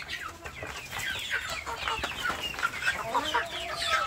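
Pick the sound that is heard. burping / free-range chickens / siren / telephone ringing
free-range chickens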